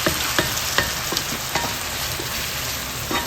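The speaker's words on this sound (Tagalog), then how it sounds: "Gusto ko igisa po yan hanggang sa medyo magmantika." Food sautéing in oil in a pan while Filipino dishes are cooked, a steady close sizzle broken by a few brief clinks and scrapes of stirring, with no talking.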